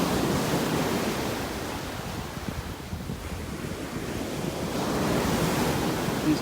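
Ocean surf washes steadily onto a beach in North Naples, Florida, a continuous broadband roar of breaking waves with wind buffeting the microphone throughout.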